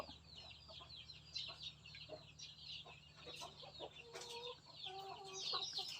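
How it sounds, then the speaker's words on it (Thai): Laying hens on a backyard farm cluck and squawk in scattered short calls, several birds overlapping at moderate distance over a low steady hum. "อันนี้จะเป็นการเลี้ยงไก่ไข่ของบ้านครูลุงบ้านคูคณิฐาเจ้า"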